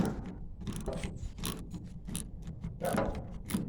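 A hand ratchet works a bolt loose beneath a 1988 vehicle during fuel tank removal, a steady run of close, dense clicking strokes with brief pauses between them.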